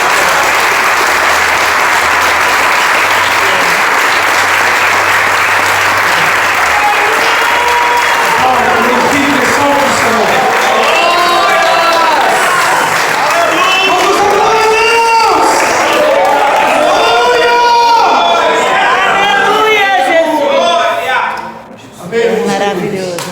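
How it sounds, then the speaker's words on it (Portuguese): A church congregation at an evening service applauds in praise, a loud sustained roar of many clapping hands rising into cheers and shouted voices. A preacher's voice carries over the crowd before it briefly dips near the end. "Quantos podem aplaudir o Senhor nessa noite?"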